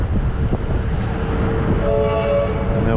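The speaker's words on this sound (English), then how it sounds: "Here's some of the trains going underground." Trains move through Southern Cross Station in Melbourne, giving a continuous low rumble of rolling stock with a sustained tonal horn or whistle rising from about two seconds on, over steady station ambience.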